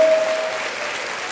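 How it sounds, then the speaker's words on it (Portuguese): Loud, dense applause from a church congregation, a continuous roar of many hands clapping that stays strong through the whole moment. "Dê-lhe um aplauso forte."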